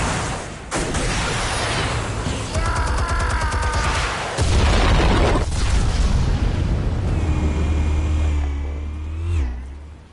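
Explosives detonate in the video game Batman: The Telltale Series, with a sharp blast early on followed by a heavy, rumbling boom mid-clip amid mechanical whirring and fading tonal hum.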